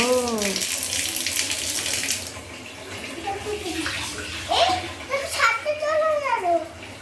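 A tap runs water into a bathtub or bucket while a child is bathed at home, a steady splashing rush that fades out midway, with a voice and adult talk over it.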